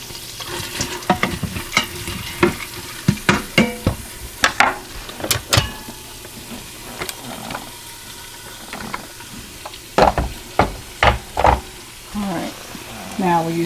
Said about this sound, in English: we got the butter starting to sizzle. Let's put in the carrots, celery, onions, and leeks.